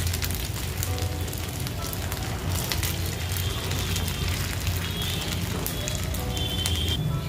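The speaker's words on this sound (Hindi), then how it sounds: "कम तेल कम घी के अंदर इसे आप सेक सकते हैं" A vrat snack roasts in a pan in a small amount of ghee, giving a steady, even sizzle and crackle that runs throughout without any break.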